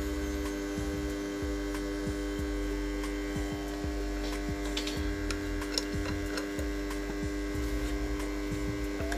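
A welding machine gives a steady electrical hum during re-welding of a door check stopper from an Opel Vivaro, with faint scattered ticks and clicks over the constant drone.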